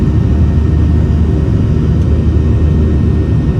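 Boeing 737-700 airliner on takeoff from Los Angeles, heard as a steady, loud broadband jet engine roar with deep rumble that holds constant throughout, no voices present.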